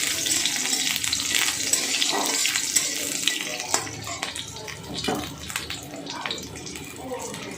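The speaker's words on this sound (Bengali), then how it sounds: "দিয়ে দিচ্ছি রসুনের কোয়া চার পাঁচ দিয়ে একটু তেলের সঙ্গে মেরে নিচ্ছি" Four or five garlic cloves frying in hot oil with black cumin seeds, a steady close sizzle with occasional scraping stirs throughout.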